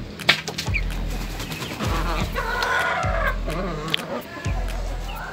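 Chickens cluck and murmur close by, with a few sharper squawks over a steady low hum.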